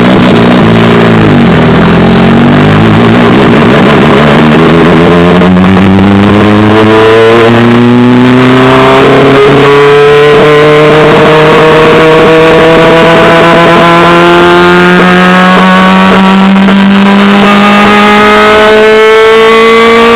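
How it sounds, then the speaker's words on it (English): A car exhaust revs hard and loud as a game sound effect, with the engine pitch climbing in long sweeping pulls and easing between them. The revving is sustained and clipped at high level, with no voices over it. "Here is exhaust number 1."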